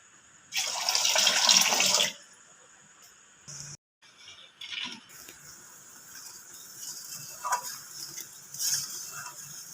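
Water poured from a cup onto sugar and crushed cardamom pods in a pan, a loud gushing splash for about a second and a half, then quieter clinks and small stirring sounds.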